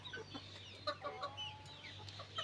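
Small native chicks and hens on a small village farm cluck and peep in scattered, overlapping calls over a steady low hum, moderately close and fairly quiet.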